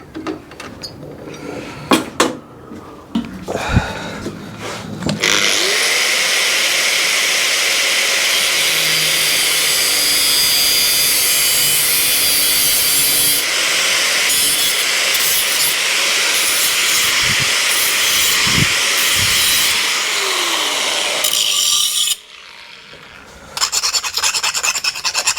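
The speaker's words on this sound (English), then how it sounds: "Gives me a guide to cut with the grinder." An angle grinder cuts along a marked guide line on a custom bobber motorcycle part, a loud sustained harsh grinding roar lasting about seventeen seconds, with tool handling noise before and after.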